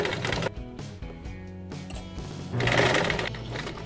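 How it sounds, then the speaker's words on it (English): Sewing machine stitching a throw pillow seam, running in short bursts with a steady rapid mechanical whir and clatter, close up and alone with no talk. "you're going to want to sew all the way to the end, and you're going to want to backstitch."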